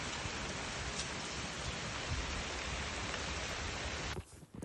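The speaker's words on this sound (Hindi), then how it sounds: "देखा कैसे बारिश शुरू हो गई।" Heavy rain pours down in a dense, unbroken hiss that stays loud and steady, then briefly drops away near the end.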